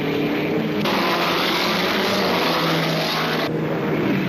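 A BRM Grand Prix racing car from the 1945–1965 era roars past at full throttle, a loud sustained engine howl with a sharp change in tone as it passes close by.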